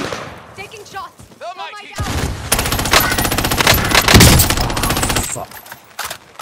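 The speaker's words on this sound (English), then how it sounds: "Taking shots!" Call of Duty Warzone gunfire: after a brief quiet lead-in, a loud, dense burst of rapid automatic fire rattles on for several seconds, close and harsh, with excited voices from the game mixed in.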